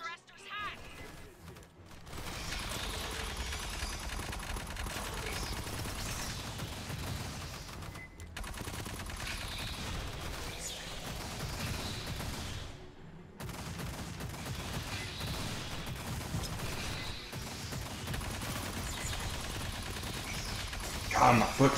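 Turret guns in a hive-themed video game fire in sustained rapid bursts, a dense rattling barrage that runs almost continuously, broken by a few brief pauses.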